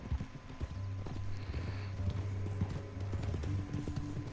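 Horse hooves clip-clop in a rhythmic, close trot in Red Dead Redemption 2, with sustained tonal game sounds running underneath.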